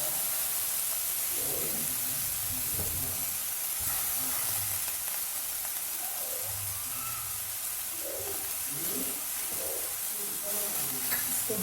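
Onion and coriander frying in a pan for Goan-style chilli chicken: a constant dense sizzle and hiss throughout, close and steady, with soft stirring scrapes and clinks and faint voices in the background.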